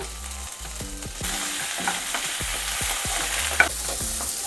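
Broken chillies and spices frying in hot oil for donne biryani, a steady close-up sizzle with soft crackles and occasional stirring scrapes, no voices.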